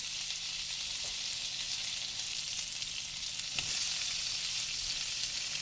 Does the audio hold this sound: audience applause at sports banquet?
no